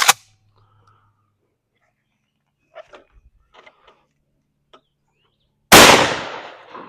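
A shotgun firing a buckshot round at a shooting range, one sudden loud blast near the end after a short stretch of quiet with a few faint clicks and handling noises.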